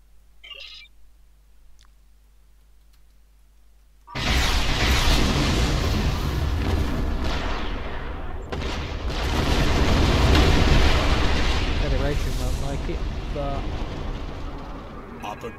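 Starship weapons fire in the Star Trek Online game: a sudden loud broadband barrage of blasts and rumbling explosions kicks in after a few quiet seconds and keeps up with dense, sustained energy to the end.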